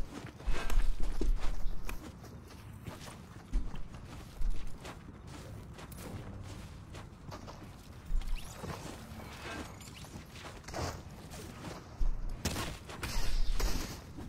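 Rapid bursts of video game gunfire in a battle royale match, loud clusters of shots near the start and end with scattered quieter pops and rustling movement in between, no talking.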